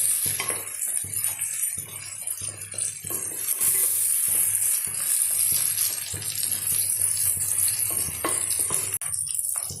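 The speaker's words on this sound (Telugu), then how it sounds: "మన ఉల్లిపాయ ముక్కలు ఆల్మోస్ట్ వేగిపోతున్నాయండి" Chopped onions frying with salt and chili powder in a pan give a steady sizzle, punctuated by frequent utensil scrapes and clinks against the pan, close and continuous.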